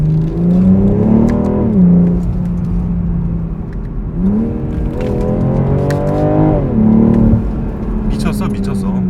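A BMW M440i coupe in Sport Plus with manual shifting accelerates through curves, the engine rising in pitch in three separate pulls with drops between shifts, loud and close, while a person talks over it.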